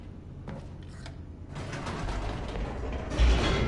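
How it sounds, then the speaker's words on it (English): A descending elevator in The Stanley Parable gives off a mechanical whir and clatter that starts quietly, then swells into a steady rumbling rush. A heavier low thump comes near the end. "The elevator raced downward, plummeting towards an unknown fate."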